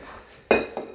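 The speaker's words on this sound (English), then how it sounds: "Get my wee plates." Small red plates clinking as they are taken out in a home kitchen, two quick close ceramic clinks, the first sharper and the second fainter.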